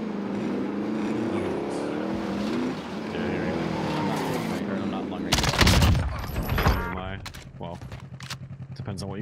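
Gunfire in the Warzone video game, rapid bursts of shots cutting in midway over engine-like game noise, with people talking over the action.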